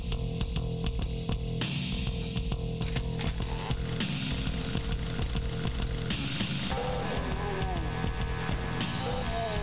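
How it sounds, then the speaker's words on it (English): A chainsaw revs loudly and continuously in the first-person shooter Doom, its grinding engine tone mixed with other game sounds and a busy, dense backdrop throughout. "Straight for the chainsaw."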